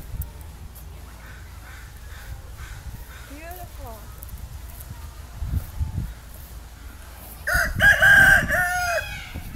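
A rooster crows loudly toward the end, preceded by quiet bird chirps and soft background noise; a voice is briefly heard earlier.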